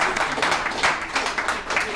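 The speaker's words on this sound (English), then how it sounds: "Let's give ourselves a round of applause." A small group at a recovery alumni meeting claps together in a short round of applause, the claps coming in uneven bursts that rise and fall for a couple of seconds.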